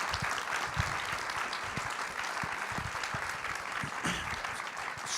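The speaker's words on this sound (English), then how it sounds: "let's give our panel a round of applause." Audience applause for a panel at a Carbon Free Boston report release event, a dense steady clapping from a full room lasting throughout with no voices over it.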